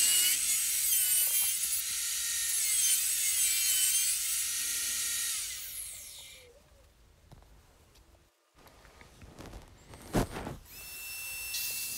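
Wood being sawn to final size for a Krenov-style Japanese hand plane: about six seconds of close, continuous rasping saw strokes, then quieter handling noises and a sharp knock.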